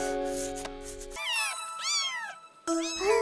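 A cartoon cat meows in several drawn-out, high, wavering cries, clean and close, with music-like tones underneath and no talking.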